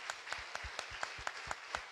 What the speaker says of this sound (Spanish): Un fuerte aplauso primero para el Ignacio.